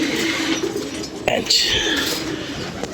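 Pigeons coo softly nearby, followed by a brief burst of wing flapping and a bird call, while someone speaks close by throughout.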